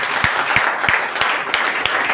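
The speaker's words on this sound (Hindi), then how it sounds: "डोनाल्ड ट्रंप के लिए भी एक बार जोरदार ताली बजा दीजिए।" An audience claps together loudly in response to a call from a stage, with sharp, fairly regular hand claps over a dense wash of applause.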